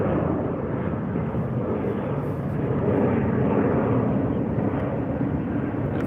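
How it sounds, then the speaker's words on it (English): A Cathay Pacific Airbus A350-900 jet roars at an airport runway, producing a steady, broad rushing engine noise that swells slightly midway and holds without a break. "the Cathay Pacific A350-900 is a really good aircraft"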